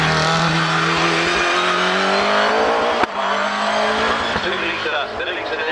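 A hillclimb race car with a Suzuki Hayabusa engine roars loudly and steadily past at Harewood Hillclimb, with a sharp crack near the middle and the engine note shifting afterward, under a commentator's voice.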